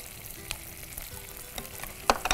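Green chilies and vegetables sautéing in oil in a pan for a dry Tamil-style dish, with a steady soft sizzle broken by a few sharp stirring clicks near the end.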